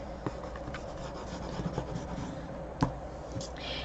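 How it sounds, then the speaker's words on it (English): Paper being burnished at a join by hand: a soft, continuous dry rubbing with a few faint scrapes and one sharper tap, close and quiet, with no voices. "And let's just burnish it."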